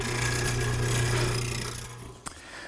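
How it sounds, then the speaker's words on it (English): A dedicated mortiser fitted with a 1/4-inch mortising bit cuts into wood posts, giving a steady loud grinding hum that fades toward the end with a brief click. "To make the mortises, I'm using my dedicated mortiser, which I've set up with a 1/4-inch mortising bit."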